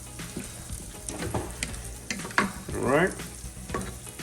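Salmon sizzles steadily in a hot pan, a continuous frying hiss with soft stirring clatter near the mic, and a brief spoken remark partway through.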